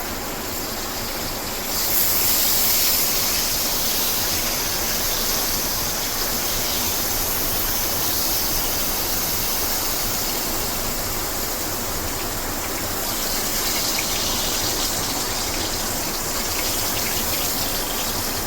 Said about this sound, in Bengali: অল্প অল্প করে দেবো, অল্প অল্প করে ভেজে নেব